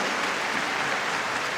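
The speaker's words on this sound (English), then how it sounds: "Please welcome the players and umpires again with a big applause" Dense, steady applause from an arena crowd welcoming table tennis players and umpires at a Korea Open men's singles semifinal, loud and continuous with no break.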